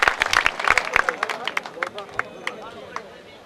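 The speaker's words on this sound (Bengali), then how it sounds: "আমরা সবাই জোরে করতালি দিয়ে তাকে অভিনন্দন জানাবো" Audience at a school alumni reunion in a hall, clapping in a burst of loud, uneven claps that thins out over a few seconds, with crowd murmur underneath.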